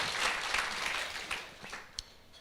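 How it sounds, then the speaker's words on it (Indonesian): Congregation at an online church worship service bursts into sustained applause, a dense crackle of many hands that fades toward the end with a few stray claps. "Kita kasih tepuk tangan dulu buat Allah kita yang luar biasa."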